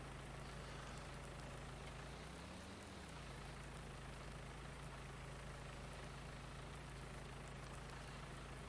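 A truck engine idles in Farming Simulator 19, a steady low droning rumble with a broad hiss over it that holds throughout and dips briefly once partway through.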